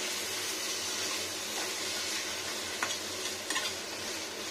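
Tomato puree frying in white oil, a steady close sizzle with occasional stirring scrapes and a couple of brief clicks late on.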